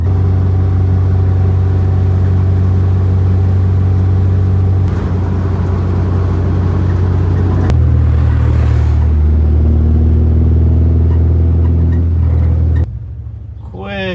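A car engine runs close by with a deep, steady rumble and some rising revs, then drops to a quieter idle near the end.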